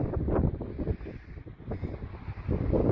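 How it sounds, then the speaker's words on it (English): Gusty wind buffets the microphone, producing low rumbling blasts that rise and fall unevenly. "It's a little windy out, so if you hear that, my bad"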